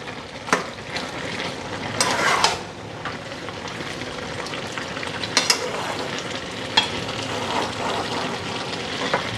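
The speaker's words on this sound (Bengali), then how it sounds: "এটার এখন লাড়া দিতাছি" Curry sizzling in a pan as it is stirred, a steady frying hiss with occasional scrapes and clacks of the spoon against the pan.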